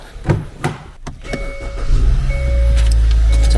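A Hyundai Grandeur IG engine cranks and catches after a few clicks and thumps, then settles into a steady, loud idle hum.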